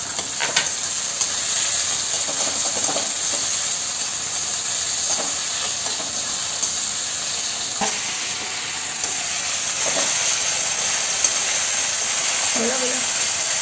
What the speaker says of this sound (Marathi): टोमॅटो कांदा छान परतल्यानंतर